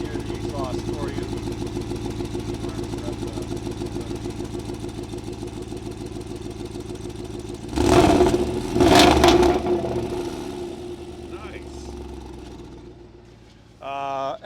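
A 2020 Jaguar F-Pace SVR SUV idles steadily with a rumbling exhaust, recorded near the exhaust, then revs sharply twice in loud bursts before settling back; a brief voice is heard near the end.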